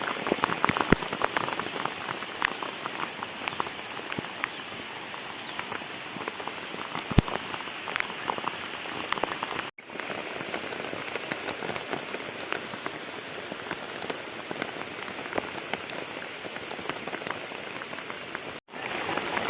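Heavy monsoon rain pours down steadily on a farm field, a dense, even hiss of drops drumming on surfaces with no letup and no voices.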